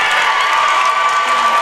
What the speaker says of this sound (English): And that is the LaPorte crowd you might hear as they are getting introduced right now.